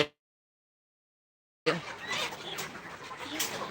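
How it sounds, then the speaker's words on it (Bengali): Layer pullet chickens on a poultry farm during a delivery of about 2000 birds, with a busy cluster of clucks and squawks starting abruptly after a stretch of silence and continuing at a steady, fairly near level. "দেখতে পাচ্ছেন আমাদের মুরগি যাচ্ছে"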